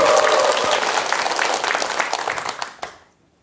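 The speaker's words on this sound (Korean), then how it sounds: "커다란 박수 주세요." An audience applauds a pianist being introduced on stage, with dense clapping that thins and fades out near the end.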